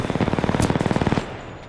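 Automatic gunfire from the video game Titanfall 2: a rapid, evenly spaced burst of loud shots lasting about a second, then abruptly stopping and leaving a low residual tail.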